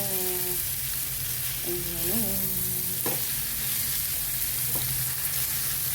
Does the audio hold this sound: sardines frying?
yes